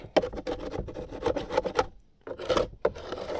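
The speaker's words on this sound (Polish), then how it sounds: "o tu mam dłutko właśnie. Takie rzeczy można zeskrobać." A small chisel scrapes propolis off a wooden beehive feeder in quick, rhythmic rasping strokes, close and crisp, with a short pause before another burst of scraping.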